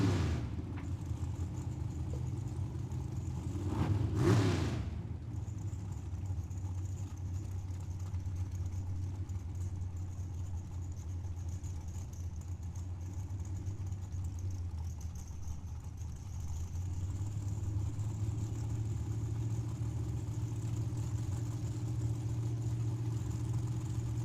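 Drag racing dragsters, including a Miller dragster, idle at Tucson Dragway with a steady, deep engine rumble. A louder broadband burst swells briefly in the first few seconds, then the low idle drones on evenly with no talk.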